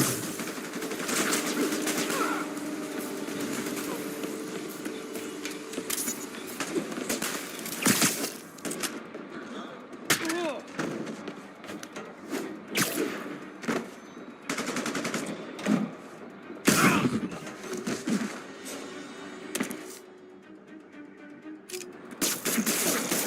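Rapid bursts of staged gunfire ring out during a Spider-Man live show fight, loud cracks and volleys repeating irregularly over about twenty seconds with brief lulls between clusters.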